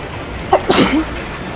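One sharp sneeze bursts out close to the microphone in a voice chat during an online game raid, a quick intake followed by a brief explosive burst over a steady background hum.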